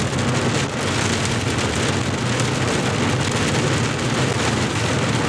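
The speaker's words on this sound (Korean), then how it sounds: "와, 이 국지성 소나기인데?" Heavy rain from a sudden local shower pours steadily and loudly on and around a car, giving a dense, continuous hiss with no pauses and no talking.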